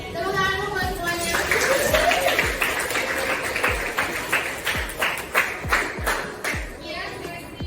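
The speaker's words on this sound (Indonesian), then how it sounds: "Tepuk tangan buat semuanya." Clapping for everyone at the close of a school class session, a loose round of claps that becomes rhythmic, unison clapping, with chatter and talking underneath.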